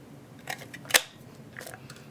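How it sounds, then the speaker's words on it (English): A scallop edge paper punch cuts through cardstock with one sharp crisp snap, close and fairly quiet, framed by faint rustles of handling paper. "I'm going to use the scallop edge punch first."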